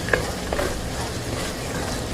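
Thick hot coconut drops mixture stirred in a pot on the stove, a soft, continuous scraping and bubbling churn with a couple of faint clinks, steady and close.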